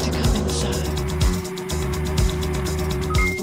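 Nissan Skyline GT-R accelerating hard on a track, with a loud, sustained engine roar and repeated rising gear pulls from close by inside the car.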